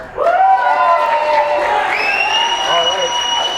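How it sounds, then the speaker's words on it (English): Audience at a Republican governors' debate cheers and applauds, a loud crowd roar with shrill whoops and raised voices that holds steady throughout. "We're still asking you to try to hold your applause until the end"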